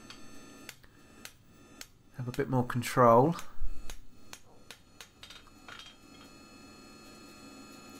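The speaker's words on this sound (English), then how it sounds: "I've changed hammers, gone down to my rounding hammer." Rounding hammer striking a steel pritchel on an anvil, sharp metallic ticks spaced about a second apart, with someone speaking briefly in the middle.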